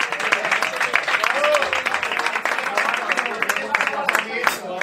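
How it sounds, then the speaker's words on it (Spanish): Concert crowd clapping and cheering for a guest musician on stage, lively uneven applause mixed with shouts and voices, loud and close, with crowd chatter running underneath. "Así es que pido fuerte aplauso para Ferdi."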